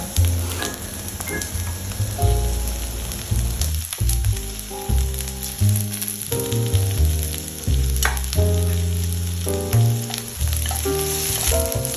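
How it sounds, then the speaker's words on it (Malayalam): Sliced onions and green chillies sautéing in hot oil for a Kerala-style prawn roast: a continuous sizzle with occasional stirring scrapes, largely buried under loud melodic background music. "ഉള്ളി നന്നായിട്ട് വഴറ്റുക"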